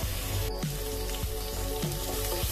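Onions frying in a pan for a home-style prawn biryani, a soft steady sizzle with periodic light scrapes of stirring, quiet and without speech.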